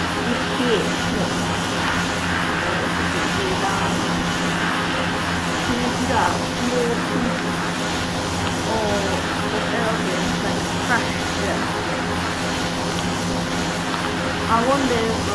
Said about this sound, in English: there's an aeroplane in the game